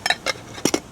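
A metal lid set onto a cooking pot at a beach campsite, two light clinks followed by two firmer clanks, close and short with no talk.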